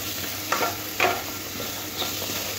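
Papaya and potato vegetable curry being stirred in a pan, a few distinct scraping strokes about half a second apart over a soft continuous sizzle, close by with no talk.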